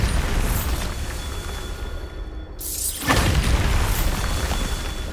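A Bombarda blasting spell goes off in the video game Hogwarts Legacy: a loud, close explosive burst around the three-second mark erupts over a dense, rumbling game soundscape and then trails off.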